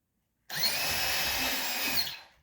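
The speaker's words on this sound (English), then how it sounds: "this bracket takes 2 screws, so I'm going to drill 2 holes" A power drill whirs loudly for about two seconds in one continuous burst, boring a screw hole into a wall for a towel-bar bracket, then spins down and stops.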